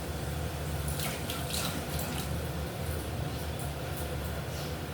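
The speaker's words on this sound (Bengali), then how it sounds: "হাতটা ধুয়ে নিই" Hands are washed under a running kitchen tap while cooking egg curry, a steady, close rush of water flowing without a break.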